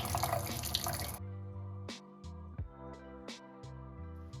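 Tap water runs into a sink for about a second while parts of a BOROUX Legacy stainless steel gravity water filter system are washed, then gives way to clinks, knocks and dripping in a small room, with no talk.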